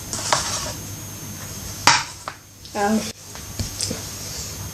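A knife and fork set down on a surface, a couple of short clinking metallic taps close by, separated by brief pauses, with a voice speaking around them.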